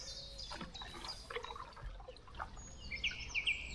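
Short bright chirps and calls from a song thrush sounding alarm beside a river on the Waveney, scattered over a soft background of flowing water, moderately close and fairly faint.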